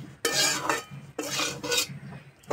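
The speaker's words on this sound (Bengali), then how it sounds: "এইভাবে আর একটু নাড়াচাড়া করে নেব।" Potatoes with cumin being stirred in a pan, a spoon scraping and rattling in two long strokes, loud and close, with no talk.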